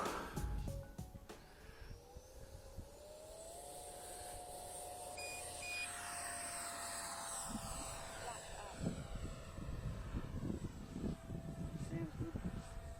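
A HobbyKing Viper 64mm 6S electric ducted-fan model jet spools up to a rising, steady whine and holds it in flight, with brief beeps at the start and gusty outdoor noise underneath; someone talks over it.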